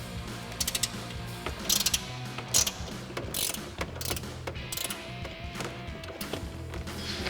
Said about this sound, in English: So we've got an 18mm ratcheting wrench on the bolt head side and a 21mm wrench on the nut